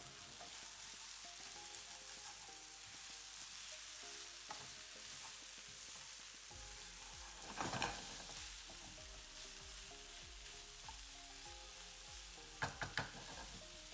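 Chicken and onion fry in a pan with a soft, steady sizzle, broken by brief stirring scrapes and a few sharp clinks near the end. The cooking is quiet, close and continuous, with no voices.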